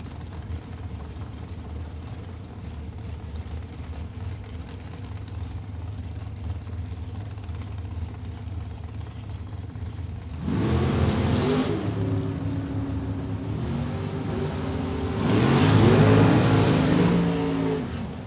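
Super Comp drag race cars launch at a Houston drag strip, with two separate bursts of engine roar rising out of steady background noise, heard at a moderate distance.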